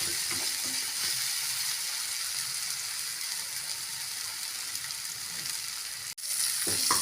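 Chili powder masala sautéing in a pan for broccoli stir-fry, giving a steady close sizzle with faint stirring scrapes and a brief drop in sound near the end.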